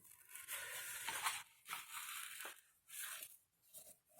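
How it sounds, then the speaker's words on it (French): Crisp paper crackling and crinkling in several bursts as it is folded, close up, with short pauses between the rustling handling sounds. "On l'entend qui craque, là, le papier."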